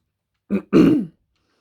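A single close throat clearing: a short grunt followed by a longer, rough rasp, then silence.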